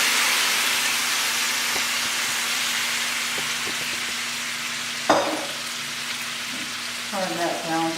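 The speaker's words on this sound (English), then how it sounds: "Now, I've got a big pan here with butter, and I'm going to put those apples in there." Apples sauteing in butter in a big pan hiss and sizzle steadily at close range, with clinks and a scrape of utensils partway through and a voice briefly near the end.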